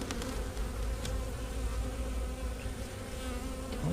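Agitated honey bees buzz in an opened hive, a dense, steady, close drone with no talking.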